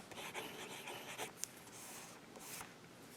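Lamy Aion fountain pen writing on paper, also used reverse side up, giving a faint, close scratchy rubbing with short strokes and brief pauses.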